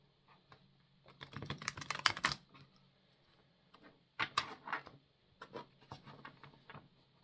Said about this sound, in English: let's have a good shuffle